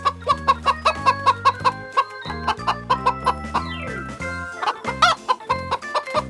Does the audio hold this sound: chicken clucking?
yes